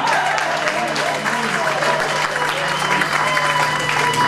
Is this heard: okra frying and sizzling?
no